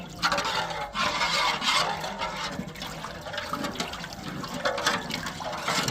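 Water splashes and gurgles as it is poured into a bowl of idli batter ingredients (dal, salt, spices), a close, continuous rushing pour lasting several seconds.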